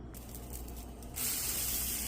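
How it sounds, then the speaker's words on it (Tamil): Adai batter hits a hot griddle and breaks into a sudden, loud, steady sizzling hiss about halfway through, after a quieter lead-in. "இப்போ நம்ம இந்த அடையை ஊற்றி சாப்பிட வேண்டியதான்."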